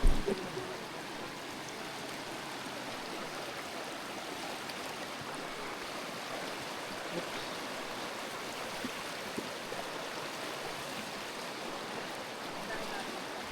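Continuous rushing river water, a strong broad roar of flowing current that holds steady throughout, with no talking heard.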